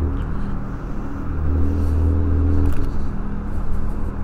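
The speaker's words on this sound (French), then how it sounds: "on a une moto derrière là. Je reconnais là le bruit." A low motorcycle engine rumble swells and drones close by, idling and revving behind a moving electric scooter, with steady road noise underneath.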